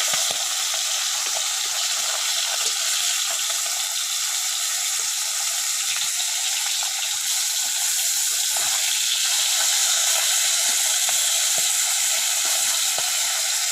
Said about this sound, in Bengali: মাছগুলি ভেজে নামিয়ে ফেললাম